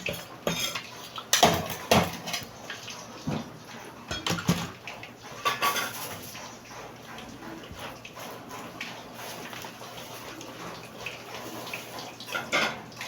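A knife chops food on a board in irregular bursts of sharp taps, close by, with kitchen clatter and quiet stretches between.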